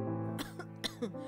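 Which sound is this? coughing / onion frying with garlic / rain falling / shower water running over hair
coughing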